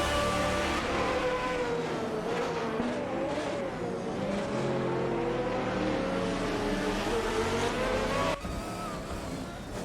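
Race cars in a simulated GTR race roar continuously along the track, engines whining and shifting pitch as they pass, with a brief tire squeal and a sudden drop in intensity near the end.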